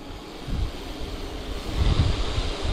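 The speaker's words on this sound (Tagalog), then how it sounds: "Sarap ng hangin." Steady wind buffeting the microphone on a coastal overlook in Libertad, Antique, Philippines, during a bike tour: a broad low rumble that swells slightly, with no voices.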